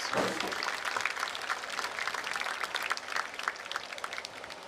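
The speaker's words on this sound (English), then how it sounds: "Give them a round of applause" A graduation ceremony audience applauds guidance counselors, a broad, distant wash of many hands clapping, sustained and fairly faint.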